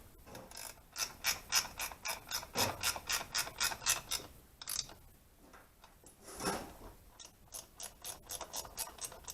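Ratchet wrench with a 12 socket tightening a Galfer stainless rear brake line fitting into aluminum threads on a Yamaha XS750 motorcycle: close, crisp bursts of rapid clicking strokes with brief pauses between.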